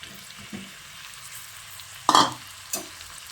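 Chicken and potato pieces are stirred in a frying pan for chicken curry, giving a low sizzle broken by a couple of sharp scrapes of the spatula against the pan, one loud and one softer.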